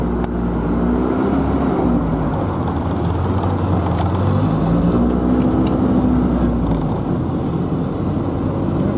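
Car engine running with a loose, poorly fitting bonnet that rattles, a loud steady low rumble with continuous rattling and hiss over the full stretch and no talk.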